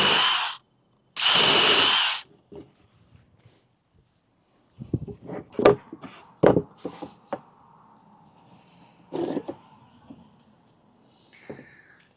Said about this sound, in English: pre-drill some holes. This is just a countersink, just so it doesn't split when I put those screws in